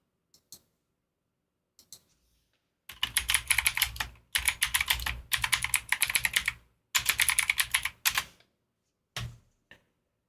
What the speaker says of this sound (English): you'll be able to hear me typing though